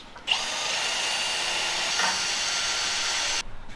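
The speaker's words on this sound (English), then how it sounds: "We'll drill the last 2." Power drill boring holes for a bolted bar on an FJ45 rock crawler, one steady continuous whine from start to stop, close and fairly loud with no talking.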